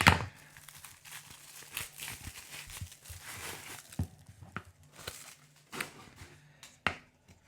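Plastic packaging around a Vashkovych forged drymba being cut open with small scissors: close, irregular crinkling, snipping and tearing sounds with sharp clicks scattered throughout, no voices.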